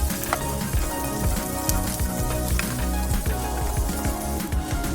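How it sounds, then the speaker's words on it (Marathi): Chopped onion sautéing in two spoons of oil in a pan, a steady close sizzle with scraping stir strokes throughout, no talking. "इथे मी 2 चमचे तेल घेतलं आहे। त्याच्यामध्ये आधी कांदा आपण एकदम व्यवस्थित पद्धतीने परतून घ्यायचा आहे।"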